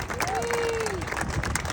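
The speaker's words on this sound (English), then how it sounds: "Big round of applause, everyone." Crowd applause at the F1 US Grand Prix, steady clapping and cheering from many people, with a brief whistle-like tone and a voice over the crowd.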